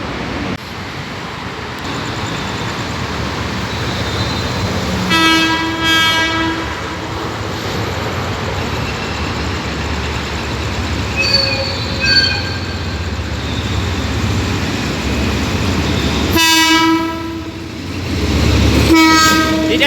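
A freight train hauled by a Hitachi locomotive rumbles steadily past close by at night near Don Mueang station, Thailand, with a continuous heavy roar and several sustained horn blasts sounding at intervals.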